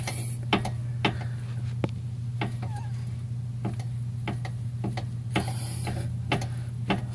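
Pry bar levering a worn lower control arm bushing against the subframe on a 2004–2009 Nissan Quest, giving a series of sharp metallic clicks and knocks spaced irregularly over a steady low hum, close and fairly loud.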